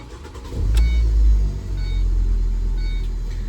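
A Ford Transit Connect from the 2010–2013 years runs after being started with a new key. Its engine gives a steady, low idling hum with a few faint clicks on top and no talking.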